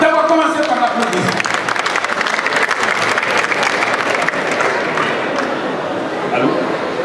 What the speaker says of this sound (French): D'abord, commencez par l'applaudir.